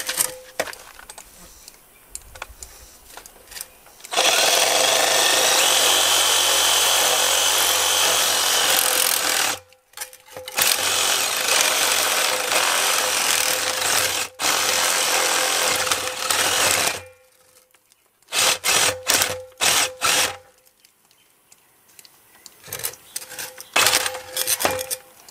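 A power tool cuts through pipe for an outdoor drinking fountain, a loud continuous grinding rasp in long bursts broken by brief pauses, ending in shorter choppy runs.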